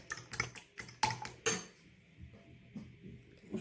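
Beaten eggs with salt are whisked in a bowl, the utensil clicking rapidly against the sides in quick bursts. Quieter, softer stirring follows, and the sound stays fairly faint overall.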